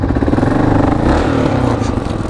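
A motorcycle engine with a sticky throttle revs loudly and close, giving a continuous rough, pulsing roar that holds high for about two seconds with slight wind noise.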